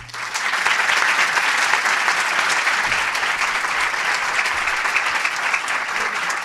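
A full university auditorium at Universidad Nacional de La Matanza gives sustained applause for journalist Rodolfo Barili, a thick, even roar of many hands that swells quickly and holds steady for several seconds.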